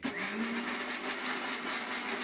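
A kitchen mixer grinder grinding coconut pieces and salt for chutney, a loud continuous motor whine with a steady pitch that cuts off abruptly at the end.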